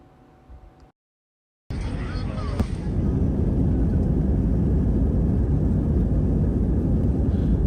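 Cabin noise inside an Airbus A320 on an AirAsia Philippines flight, heard from a window seat: after a brief drop to silence, a loud, steady broadband roar fills the rest of the clip.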